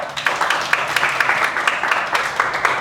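Students in a physics class clap harder on request, rhythmic bursts of hand claps repeating throughout, fairly loud and close with light voices mixed in.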